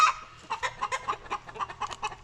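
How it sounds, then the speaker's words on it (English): Small bantam chickens cluck in a quick, uneven series of short clucks, fairly close and clear against a quiet background on an off-grid homestead. "We got a new bantam. That's a hen."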